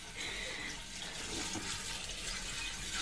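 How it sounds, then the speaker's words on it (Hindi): Water poured steadily into a cooking pot for steaming rice-flour pitha, a continuous splashing gush at moderate level that holds throughout without talk. "लड्डू पकने के लिए पानी डला रहा है डिक्ची में"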